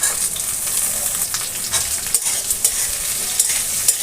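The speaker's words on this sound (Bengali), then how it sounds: "আমি একে একে অন্যান্য সবজিগুলো ভেজে নেব। এবার পটল দিয়ে দিচ্ছি।" Pointed gourd frying in oil in a pan for a fish-head chhachra, a steady close sizzle with occasional stirring scrapes and small pops throughout.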